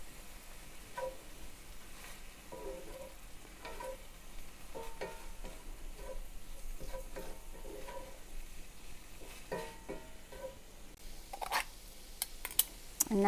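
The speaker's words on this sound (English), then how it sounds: "And stir it up." Spoon stirring a fall recipe in a pot, scraping and rubbing in soft, irregular strokes over a low sizzle, close and steady with no talking.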